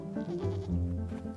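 Video game goats bleat in a run of wavering, nasal calls that overlap one another, close and fairly loud with no talking over them.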